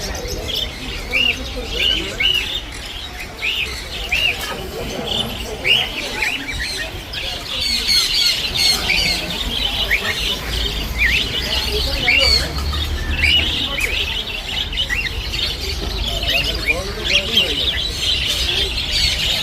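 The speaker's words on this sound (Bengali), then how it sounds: "কত রকমের পাখি আছে দেখুন" Many birds chirp, tweet and coo at once at a crowded bird and animal market at Baguiati Joramandir, a dense overlapping chorus with people's voices murmuring underneath.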